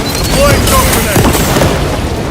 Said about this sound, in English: Deploying shock grenade!